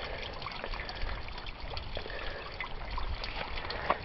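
Rainwater trickles and pours steadily from a backyard rain barrel collection system with a diverter, a continuous close splashing flow with no talk.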